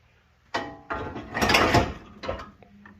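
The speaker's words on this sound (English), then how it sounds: "looks like 4 13mm nuts to get the valve cover off" Ratchet working loose the four 13mm nuts on a valve cover of a Mercedes OM617 diesel engine, a few close mechanical bursts of clicking and metal handling over about three seconds, with no talk.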